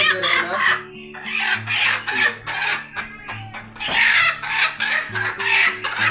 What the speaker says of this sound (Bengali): আর একটা মুরগিকে আমরা এখন ডিমের মধ্যে বসাই দেবো